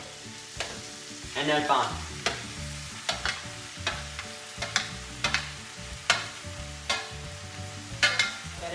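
Chicken fries and is stirred in a paella pan, loud sizzling punctuated by repeated sharp scraping and clattering of the utensil against the pan at an irregular pace, with a brief spoken phrase at the start.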